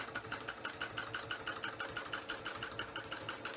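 A sewing machine bastes a quilt on a Cutie quilting frame, its needle clattering in a quick, steady mechanical rhythm with a low motor hum beneath, fairly faint and without voices.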